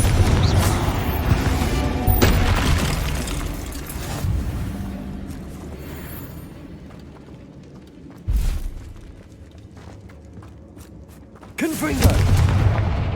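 Fiery Confringo blast spells from the Hogwarts Legacy video game, heavy booming bursts landing repeatedly amid continuous combat noise, with sharp loud hits near the start, middle and end.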